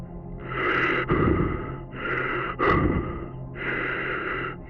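Labored breathing from an astronaut running out of oxygen: three or four ragged, close breaths, each a strained rasping inhale or exhale with sharp catching gasps between them, heard alone in an otherwise quiet space.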